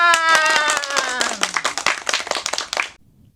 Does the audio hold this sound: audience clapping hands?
yes